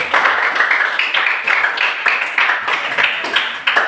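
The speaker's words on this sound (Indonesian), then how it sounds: "Oke, tepuk tangan untuk kelompok 1." A class claps for group 1 after its presentation, a steady run of close, dense handclaps that goes on for a few seconds with no talk over it.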